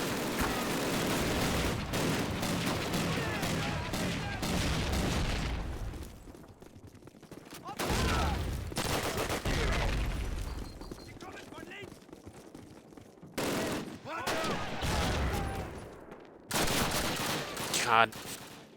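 Gunfire in a video game, dense bursts of shooting that come and go across the clip, mixed with someone talking over the action.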